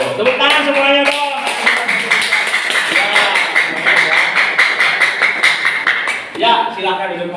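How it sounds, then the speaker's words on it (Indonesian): Students in a classroom clap their hands together in a lively round of rapid applause, mixed with loud children's voices and chatter close by over the whole stretch. "Oh, tepuk tangan semuanya dong."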